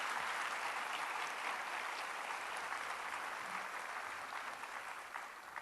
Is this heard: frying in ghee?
no